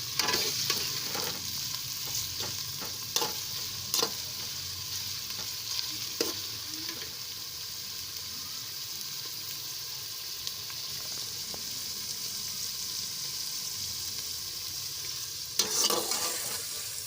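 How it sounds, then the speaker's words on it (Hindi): Onions frying lightly in a pan for a bhindi dish make a constant soft sizzle, with occasional sharp clicks of stirring at the start and near the end. "प्याज को ब्राउन नहीं करना, बस हल्का हल्का इसे भूनना है।"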